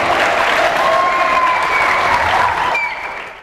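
Students at a school assembly for a Maulid Nabi tabligh akbar in Bandung applaud loudly, a dense sustained wash of clapping from a large crowd, with faint tonal sounds threaded through before it fades out at the end.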